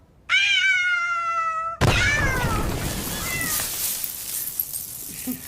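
A cat gives one long, loud, close meow, followed by a harsher drawn-out wail that fades into quieter room noise.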